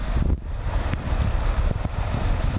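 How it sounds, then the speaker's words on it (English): Rushing water of rapids on the Spokane River, heard from a kayak as a dense, continuous roar mixed with wind buffeting the microphone and a few sharp splashes, close and fairly loud, with no talking. "All right, here comes rapids."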